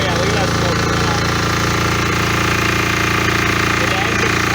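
An MEP 831A military generator engine running under load, a loud, steady drone with a rapid knocking rattle that holds constant throughout with no letup.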